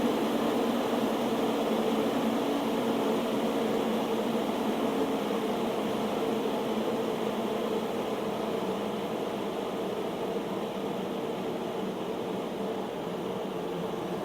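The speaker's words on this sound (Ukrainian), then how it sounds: "Плавно можемо зменшувати швидкість обертання вентилятора за рахунок плавного зменшення напруги" An electric fan hums steadily while a cheap voltage speed regulator gradually lowers its supply voltage, a continuous even whir and motor drone with no pauses, slowly settling lower across the stretch.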